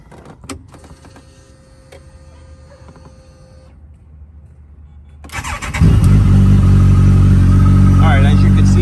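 A 2021 Campagna T-Rex 1400 RR with a Kawasaki engine cranks and fires up, settling into a loud, steady idle after a few seconds of quieter mechanical clicks and whirring.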